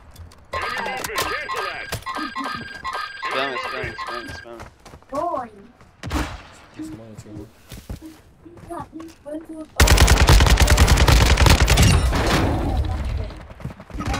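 Automatic gunfire rattles in Warzone 2, an early stretch of rapid bursts followed later by a loud, dense sustained volley, with players talking over and between the shots.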